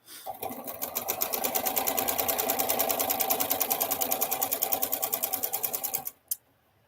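A sewing machine runs steadily while chain piecing quilt pieces, a fast even stitching rattle that holds for about six seconds at close range, then stops abruptly.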